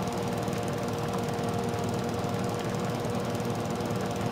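A zero-turn lawn mower cuts a yard in Farming Simulator 22, its engine a steady, dense rumbling drone that holds at a constant level throughout.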